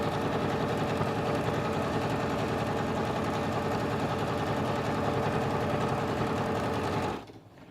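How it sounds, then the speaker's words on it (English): SINGER Professional 9100 sewing machine stitching a buttonhole, a steady, fast mechanical whirring hum running continuously for about seven seconds before stopping abruptly into near silence. "This machine starts at the bottom and stitches up for the buttonhole"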